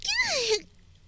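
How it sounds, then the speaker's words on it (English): A single close, fairly loud voiced sneeze: a half-second falling cry that cuts off into near silence. "Oh, I have to sneeze."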